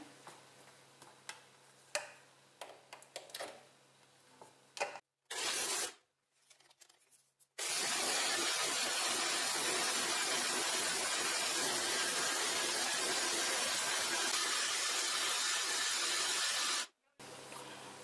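A kitchen blender whirs loudly and steadily for about nine seconds, mixing a rosemary oil mixture, with a brief pulse just before and clicks and handling noises around it.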